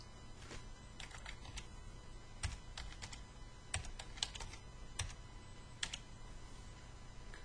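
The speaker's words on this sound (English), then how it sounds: "You can manually type in any input boundary file you like." Fingers typing on a computer keyboard at a desk, irregular bursts of light key clicks with short pauses between runs, close and fairly quiet over a low steady hum, no voices.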